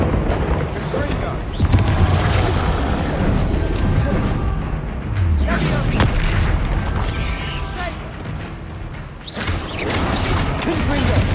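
Repeated Confringo blasting-curse explosions in Hogwarts Legacy, booming bursts and crashes recurring every few seconds amid continuous loud game combat noise and music.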